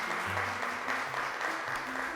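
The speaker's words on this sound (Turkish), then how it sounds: "Alkışlıyoruz arkadaşlarımızı" Steady applause from a TV quiz show studio audience, dense and continuous throughout, with a faint musical tone sounding underneath.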